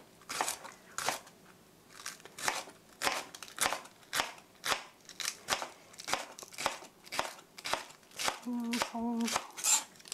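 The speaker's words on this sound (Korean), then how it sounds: "나머지 반은 이렇게 송송송 썰어주세요." A knife chops kimchi finely on a cutting board for stir-fried pork, giving a steady run of sharp, close knocks roughly two or three per second, with a brief clink of utensils near the end.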